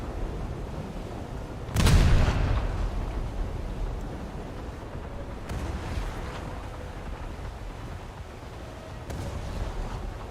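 Naval gunfire in a ship combat video game: one heavy booming shot near the start, followed by two fainter distant blasts over a steady rumbling background.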